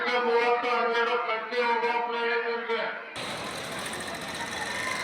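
A KSRTC bus from Kalghatgi depot, Hubballi division, running the Kalghatgi to Mundgod route, idles at Kalghatgi bus stand: a steady humming drone for about three seconds, then a broad, even rushing roar that holds to the end.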